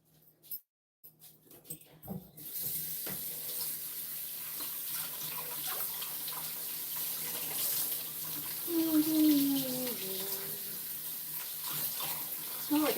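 A kitchen tap runs steadily while something is washed under it, a close hiss of water lasting most of the time, with a brief rising and falling whine partway through.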